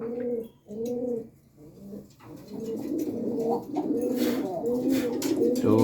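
Satin pigeons coo in soft, repeated rounded calls, close by, followed by busier overlapping cooing and light rustling toward the end.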